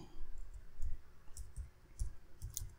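Computer mouse clicks while creating a new document in ChatGPT, several short, sharp clicks spaced irregularly, faint and close, with no talking.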